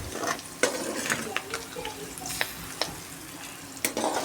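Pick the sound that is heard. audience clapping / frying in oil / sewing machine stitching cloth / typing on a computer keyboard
frying in oil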